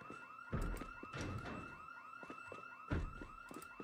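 In Project Zomboid, a car alarm wails in rapid repeating warbles, close and loud, with two heavy thumps landing amid the cycling tones.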